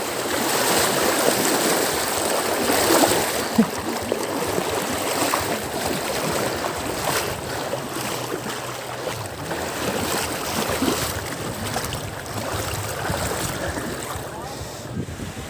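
Bicycles cross a river current, with rushing water and heavy wind buffeting the microphone in a loud continuous wash, with faint voices partly buried in the noise.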